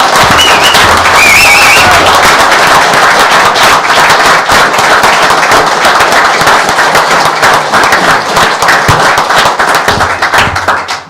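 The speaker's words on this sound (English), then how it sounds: "I think he deserves a round of applause for that." A town council meeting audience bursts into loud, close applause, many hands clapping in a dense crackling burst that holds steady for several seconds before tapering off at the end.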